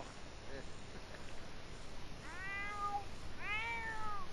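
A cat named Bronco meows in The Sims 4 on PS4: two drawn-out, rising-and-falling meows, close and clear, over a quiet background.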